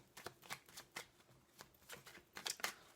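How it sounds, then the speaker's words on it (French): Tarot cards are handled and laid over one another, making faint, quick papery flicks and shuffling taps in an uneven rhythm, quiet and close. "on va recouvrir ces cartes"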